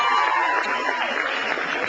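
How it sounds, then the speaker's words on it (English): An audience claps and cheers for a comedian at a comedy show, a dense burst of applause from a nearby crowd with scattered voices mixed in. "can you please give him a clap?"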